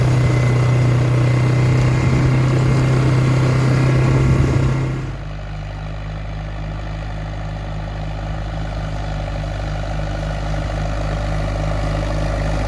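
A tractor engine runs steadily at a hunting property in Michigan, with a loud low-pitched drone. Its tone drops and quietens around the midpoint, then the engine keeps rumbling at a lower level until the end.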